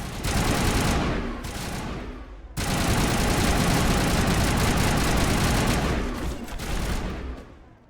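Sustained automatic weapon fire from the video game Mass Effect, a dense continuous loud rattle that briefly drops around two and a half seconds in, then resumes and tapers off near the end, with an engine-like drone underneath.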